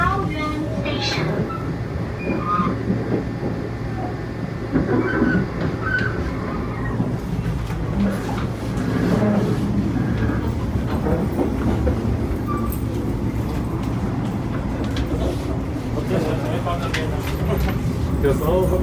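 A Chu-Kuang express train pulls into Taoyuan Station with a steady loud rumble of wheels and carriages, rail clatter, and a station announcement voice over the running noise.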